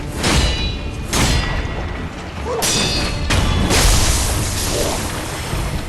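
Fireworks bursts thrown at an enemy in the video game Sekiro: Shadows Die Twice, a string of loud, close booms and crashing thuds with whooshes, repeating every second or so over about six seconds, with no talk.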